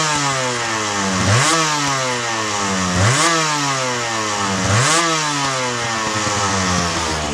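A 2000 Aprilia RS250 MK2 Harada Replica two-stroke engine blipped three times from idle up to about 9,000 RPM, each rev rising sharply and falling back to a buzzing idle, loud and close.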